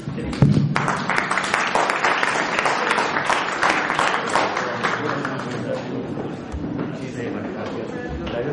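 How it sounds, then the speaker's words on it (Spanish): A final round of applause for Luzario Zamudio at a Colombian-Arab cultural gathering: a crowd claps steadily and fairly close, with voices mixed in and some bright individual claps standing out. "Un aplauso final por Luzario Zamudio"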